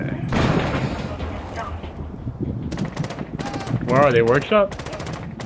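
Automatic gunfire bursts from the tactical shooter Rainbow Six Siege ring out in quick rattling runs, mixed with thuds and game effects while players talk over them throughout.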